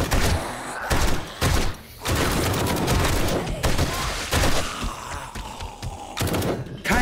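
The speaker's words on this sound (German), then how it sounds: "Endlich mal was tot schießen hier." Bursts of rapid gunfire from the game 7 Days to Die, loud close shots in quick volleys separated by short pauses, with thuds and clatter between them.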